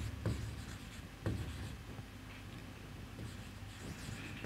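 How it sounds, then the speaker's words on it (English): Pen or chalk scratches quietly across a surface while a journal entry format for an accounting lecture is written out, in soft, repeated strokes with a faint background hum. "and we are writing here"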